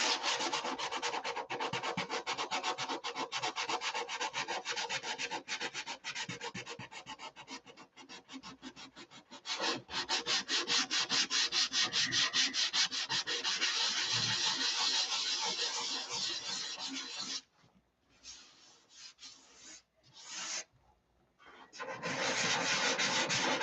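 Wood being sanded makes a loud, close, steady abrasive rasp for most of the stretch. Near the end it breaks into short stops and restarts.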